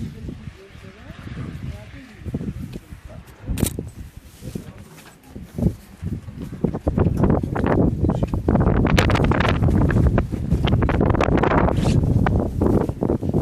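Strong wind buffets the microphone in loud, continuous gusts in a village in Armenia's Aragatsotn region, with rustling and a voice talking partway through.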